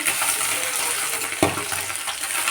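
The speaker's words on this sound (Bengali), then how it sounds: "এইভাবেই আমি সব মাছগুলো ভেজে নেব" Small fish frying in oil in a pan, a continuous close hiss and crackle with a brief clatter midway, likely as a piece is turned, and no voices.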